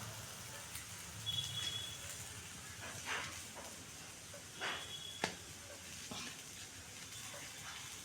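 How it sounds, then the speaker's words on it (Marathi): Eggplant slices frying in a pan give off a faint, steady sizzle with soft scrapes and occasional light taps. "वांग्याचे काप इथे आपण छानसे असे भाजून घेणार आहोत चालू फ्राय करून घेणार आहोत"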